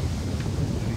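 A brief rush of strong autumn wind buffeting the microphone at a carp-fishing spot by a dam, a low rumbling roar with no voices.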